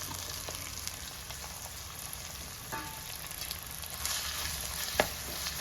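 Chopped shallots, ginger and green chillies sauté in hot oil for a Kerala-style snakehead fish curry, giving a steady close sizzle and hiss with a few sharp crackles and light stirring clicks, no voices.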